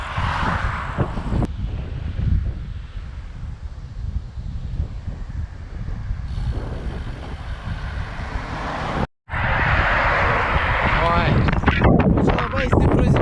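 Strong headwind roars against the microphone during a long-distance bicycle ride from Vilnius toward Palanga, a loud continuous buffeting with a brief dropout near the end, while a voice talks over it.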